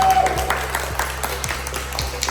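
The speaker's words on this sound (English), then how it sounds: "Can we give them a big round of applause?" Applause for two top-achieving students, Rashid and Latifa, at a school celebration, with sparse, patchy claps over a steady background hum and a brief voice at the start.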